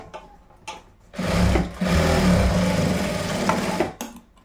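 A sewing machine stitches boys' shorts in one continuous close whirring run of about three seconds, with faint clicks and handling before and after.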